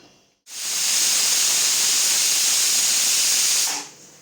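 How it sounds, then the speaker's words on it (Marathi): A loud, steady hiss of steam bursts out abruptly from a pressure cooker whistle and holds for about three seconds before cutting off. "आपल्या कुकरच्या शिट्ट्या व्हायच्या"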